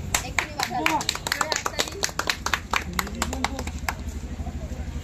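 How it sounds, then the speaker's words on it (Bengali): Hand clapping from a small group at a close-up magic show, sharp repeated claps scattered over about four seconds alongside voices talking. "হাততালি"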